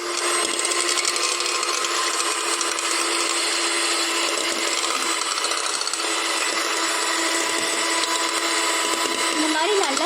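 Electric hand mixer whirring steadily as it beats white and brown sugar into brownie batter until foamy, a continuous close, loud motor drone with a slight pitch rise near the end.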